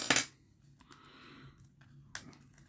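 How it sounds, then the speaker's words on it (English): A hobby X-Acto knife slices open the cardboard box of a 1995 Fantasy Adventures starter card deck: a sharp, close scrape at the start, then soft rustling and a second quick cut near the end, with no voices. "Take our handy dandy X-Acto knife and cut this open"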